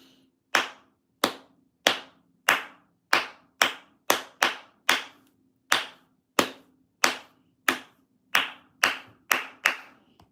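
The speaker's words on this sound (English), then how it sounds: "let's clap the rhythm" Hands clap out the rhythm of a violin tune from Alien Stage: about seventeen sharp, close claps in an uneven musical pattern, alone with no talking.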